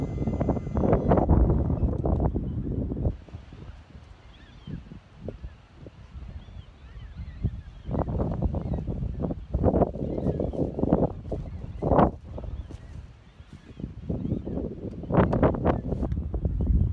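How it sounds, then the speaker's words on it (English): Strong gusty wind buffets the microphone outdoors in a bee yard, surging in repeated loud blasts with brief lulls between them. "we are having a windy day."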